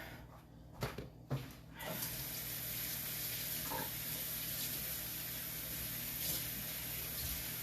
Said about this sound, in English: So I'm just washing my rag out. with cold water